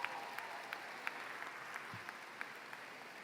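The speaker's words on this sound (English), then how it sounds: "Give them a round of applause if you would" Audience applause at a 2019 high school commencement, a faint, steady wash of clapping from a large crowd heard at a distance, with occasional sharper claps standing out.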